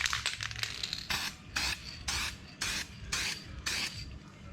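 U-Pol satin black paint from an aerosol can hisses out in short, even bursts, about seven spaced test sprays in a row, close up with no talking.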